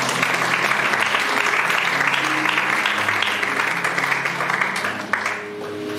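A church congregation breaks into sustained, loud applause in praise of the Lord, a dense wash of many hands clapping that tapers off near the end.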